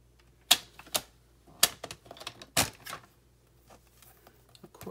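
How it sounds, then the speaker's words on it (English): A paper trimmer is used to score cardstock at a quarter inch for a paper pumpkin craft. Several sharp, close clacks and clicks come in uneven bursts, then fade into lighter tapping, with no speech. "So let me just get my trimmer and do that."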